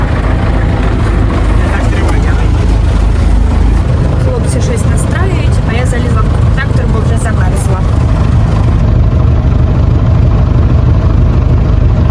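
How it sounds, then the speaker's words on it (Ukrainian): A heavy tractor engine rumbles loudly and steadily nearby during autumn ploughing, with someone talking over the noise now and then. "Зараз трактор під'їде."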